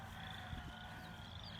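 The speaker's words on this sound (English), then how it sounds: "If you can hear in the background, there are some frogs." Frogs croaking at a wetland spot in the Gilman G. White Wildlife Area, a continuous faint chorus of calls in the background with steady outdoor ambience and no talking.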